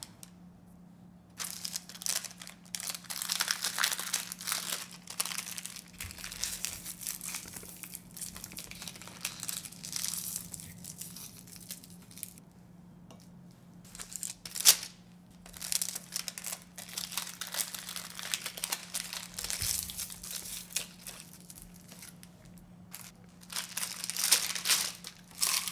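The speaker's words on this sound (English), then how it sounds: "This is cellophane candy wrapper." Cellophane candy wrapper crinkles and crackles close up as beet jelly candy is wrapped, in bursts of rustling with brief pauses, all without speech.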